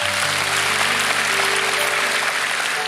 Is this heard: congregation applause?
yes